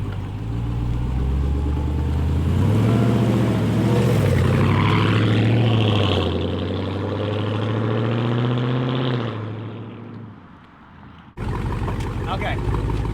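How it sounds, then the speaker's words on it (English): A pressure washer sprays a widebody Challenger, its motor droning loud and steady with a broad watery hiss, dropping off near the end before briefly starting up again. "We're going to pressure wash it."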